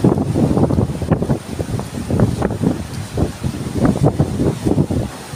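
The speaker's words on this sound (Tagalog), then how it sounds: "Pag lumakas na talaga dito yung hanging amihan." Strong amihan wind buffets the microphone at the shore while sea waves surge and crash in rough, irregular bursts, loud and close with no talk.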